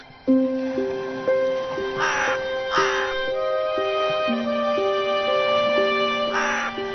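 A crow in an animated tale gives three harsh caws, two close together and one later, each short and coarse, heard over a steady tonal music backing.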